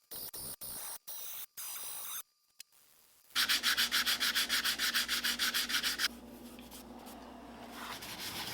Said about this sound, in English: Once all those voids are filled, it's back to sanding.